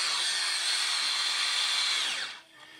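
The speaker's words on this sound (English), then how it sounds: "what you want to try to do is keep the drill wet" A drill runs steadily at a whining pitch while polishing a cloudy, brown-stained car headlight, then slows and winds down near the end; close and loud, with no talk.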